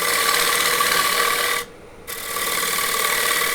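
A bowl gouge cuts a wooden platter on a lathe, giving a loud, steady scraping rasp that briefly drops out for a moment before the cut resumes.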